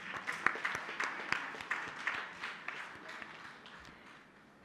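Audience applause at an International Women's Day celebration on a business school campus, faint scattered claps tapering off over a few seconds.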